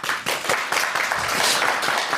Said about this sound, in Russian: Ну что ж, эти аплодисменты как аванс перед вашим выступлением.